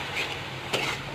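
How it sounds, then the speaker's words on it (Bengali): Pigeon meat being stirred in a pan with ginger paste, chili powder and turmeric, a brief close scraping stir over a soft sizzle, with one louder scrape partway through. "আদা বাটা, মরিচের গুঁড়া, হলুদের গুঁড়া, এসব দিয়ে আবারও হালকা করে নাড়িয়ে নিব।"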